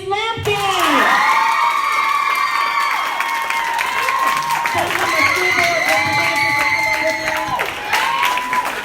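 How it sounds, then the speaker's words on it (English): Children and adults cheering for a winner at a school leadership academy election event, with loud whoops, shrieks and sustained shouting over clapping and crowd noise, close and lively throughout. "And so we are going to be all cheering for the school board representative, Grace Lampkin."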